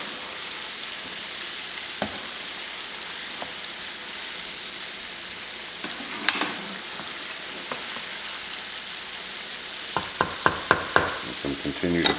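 Shrimp for Southern Creole fried shrimp sizzle steadily in a hot pan, a constant hiss broken by scraping and clicking stirs that grow more frequent toward the end, close-up and without talking.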